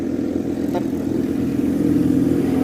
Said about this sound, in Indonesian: Oke, suara knalpot